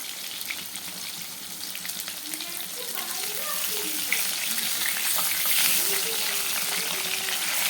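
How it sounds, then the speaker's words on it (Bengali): Bhetki fish bones frying in oil with Kashmiri red chilli, a loud, continuous hiss and crackle that swells slightly, with a person talking over it. "দেখো মাছের কাটাগুলো আমি এইভাবে ভেজে নিচ্ছি"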